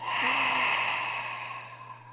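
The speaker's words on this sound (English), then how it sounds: "Exhale through the mouth." A slow, steady exhale through the mouth during prenatal yoga breathing, a soft breathy whoosh that fades out gradually over a low steady hum.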